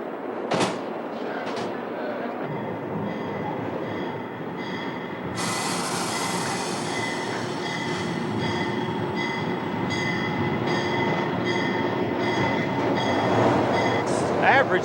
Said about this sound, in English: Average speed of this particular train on the New York to Washington run is probably in the neighborhood of 70 miles an hour.